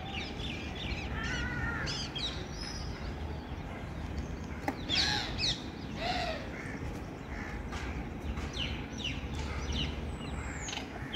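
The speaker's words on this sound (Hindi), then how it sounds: "कौवे तो खूब है" Several crows caw repeatedly, some close and some farther off, in an outdoor Indian home setting over a steady low background rumble, with no talking.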